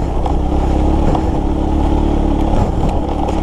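A vehicle crawls slowly over a rough, rocky rural road to Barangay Diampak: a loud, continuous engine drone with intermittent thumps and rattles as it rolls over stones.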